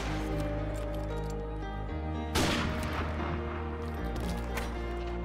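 A loud shot bursts out in a first-person shooter trickshot, standing out sharply over a steady bed of in-game noise and music, with a few fainter blasts following.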